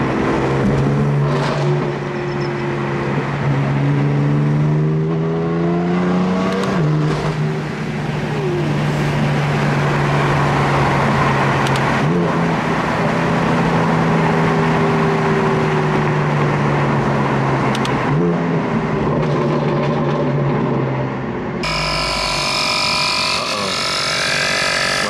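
BMW M cars at a Sunday cruise: an engine drones steadily with pitch rising and falling through several revs and gear changes, close by and loud, ending in a brief shift to a different noisier sound.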